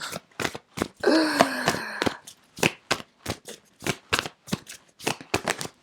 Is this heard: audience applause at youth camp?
no